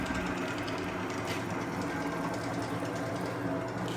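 A honey extractor spins during a honey harvest with a steady, continuous mechanical whir and hum. It is close and even in level throughout, with no pauses.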